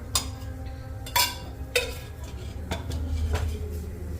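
Atta barfi mixture roasting in ghee in a pan on low flame, with a utensil scraping and knocking against the pan in a few distinct clanks over a soft background, close by, no voices.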